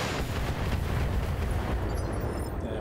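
Heavy weapons fire from battling mechs in BattleTech rumbles as a dense, continuous roar of blasts and booms, loud and sustained with no voices.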